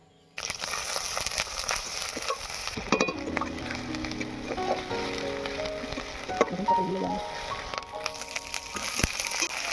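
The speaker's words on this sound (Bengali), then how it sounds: "এবার আমি দিয়ে দেব আদা রসুন বাটা" A steady sizzle of ginger garlic paste frying in hot oil with onion paste, with occasional crackles and a brief clink of utensils partway through.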